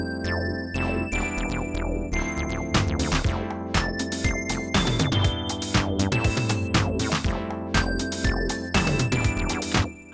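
In Ableton, an 80s boogie synth bass line from a free Oberheim-style synth walks steadily through notes under chiming bells and chords, with a bright, busy electronic mix that plays continuously and fairly loud with no voice.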